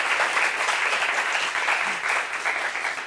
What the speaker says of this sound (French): Applaudissements pour ça encore, s'il vous plaît